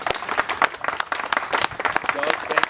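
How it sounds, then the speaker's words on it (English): An outdoor crowd at a park groundbreaking ceremony claps in sustained, dense applause, close and fairly loud throughout. "Let's applaud her for that."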